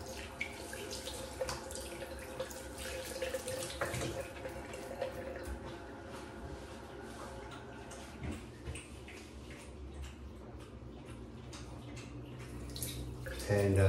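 Shower water runs in a steady, close hiss of spray and splashing that continues throughout, with small bumps and a louder burst right at the end.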